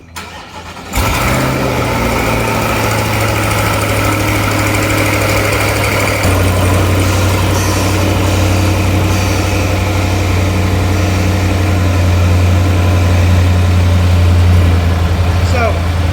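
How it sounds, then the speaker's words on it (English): A twin-turbo V8 C8 Corvette cold-starts, cranking and firing up with a loud roar, then settles into a steady, deep idle that continues loudly, with brief talking in the background. "So we're going to cold start this."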